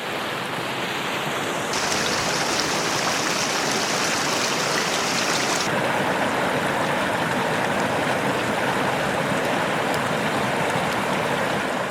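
A Rocky Mountain creek beside a campsite rushes steadily with a dense, even wash of water noise that holds at a constant level throughout, near and fairly loud, with no voices.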